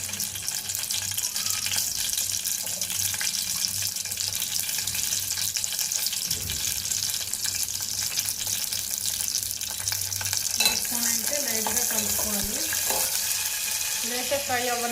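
Green chillies fry in hot oil for a tomato chutney, giving a loud, constant bubbling sizzle close by, with stirring scrapes and clinks mixed in.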